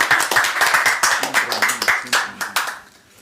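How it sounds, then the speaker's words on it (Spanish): A small group claps at a press conference, a short burst of distinct hand claps close by that thins out and fades at the end. "Un aplauso."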